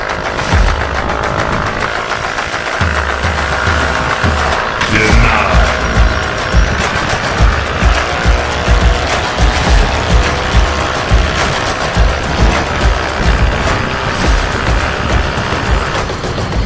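Mio i 125 and Mxi 125 scooters racing side by side, a steady loud engine drone with rough, rapid pulsing throughout, close by and without speech.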